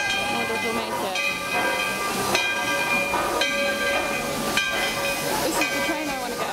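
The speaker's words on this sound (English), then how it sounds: "Oh, this is a train." A steam train at Walt Disney World hisses and chugs with bright whistle-like tones swelling in repeated bursts, loud and close, with faint voices mixed in.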